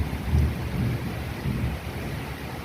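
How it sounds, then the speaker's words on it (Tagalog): Steady rain hisses while gusty wind rumbles in low, uneven surges near the sea, with no voices. "Ulan, mahangin."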